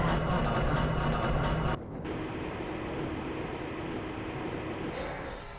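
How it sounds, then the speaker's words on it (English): A Black Mesa transit tram in Half-Life: Blue Shift rolls along with a steady loud rumbling hum, briefly shifting tone partway through as it continues moving, with no voices over it. "This train is inbound from the Area 8 topside dormitories to the central transit hub in Area 9"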